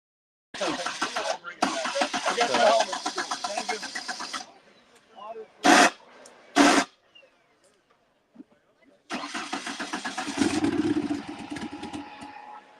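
A small hobby motor, likely on a remote-control rock crawler, buzzes and revs in bursts, cuts out with a couple of sharp pops, then fires up again and keeps running, with people talking over parts of it.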